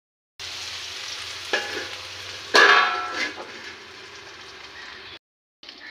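Taro stolons frying in a pan over low heat, a continuous soft sizzle broken by a couple of sharp clanks as a lid goes on, then a brief silence.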